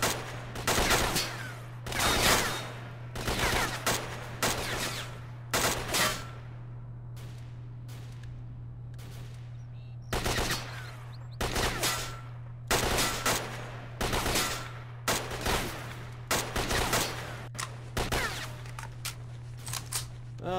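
Repeated bursts of gunfire in S.T.A.L.K.E.R. Shadow of Chernobyl, loud close volleys and rapid strings of shots separated by short pauses over a steady low hum, with no talking.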